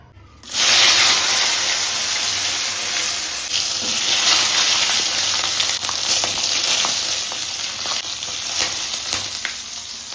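Whole spices for vegetable biryani (bay leaf, green chili, cloves, cardamom and cinnamon) drop into hot oil with a sudden loud hiss, then keep sizzling strongly and steadily close by.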